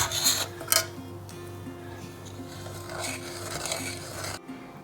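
Spoon stirring milk in a pan over a low flame, giving a steady soft scraping and rubbing against the metal, with a low hum underneath and a few louder scrapes early on.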